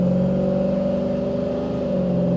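Supercharged Ford Coyote V8 pulling hard under wide-open throttle, a loud steady engine drone with strong harmonic tones that hold near and continuous, no voices over it.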